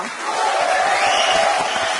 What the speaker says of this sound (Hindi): बद्री के लिए जोरदार तालियां।